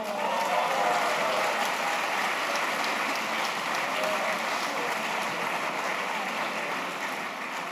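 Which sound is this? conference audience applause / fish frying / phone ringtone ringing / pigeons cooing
conference audience applause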